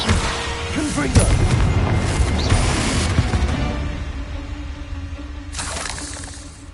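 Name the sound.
Confringo spell explosion in Harry Potter video game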